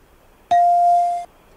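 A single bright bell ding used as a comedic sound effect, struck once and ringing clearly for under a second before cutting off, loud and alone with no talk.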